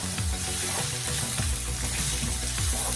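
Shredded cabbage and carrots fry in olive oil over medium-low heat, giving a steady close sizzle with soft stirring scrapes and small pops throughout, and no one speaking.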